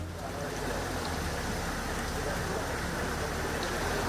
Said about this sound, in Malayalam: ചെറിയ രീതിയിലുള്ള ചാറ്റൽ മഴ മാത്രമാണ് പെയ്യുന്നത്